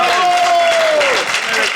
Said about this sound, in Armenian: Բարձր ծափարում եք Տիկին